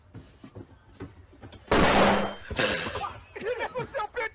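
A flashbang goes off in a clip played back during a live talk show, a sudden loud blast with a bright, hissing burst and a second crack, set between stretches of speech that resume right after.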